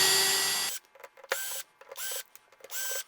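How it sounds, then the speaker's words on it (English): Several short bursts of a power drill whirring as it removes carburetor diaphragm cover screws, each a second or less, separated by brief pauses, close by. "I'm going to use a drill just because it's going to be way faster."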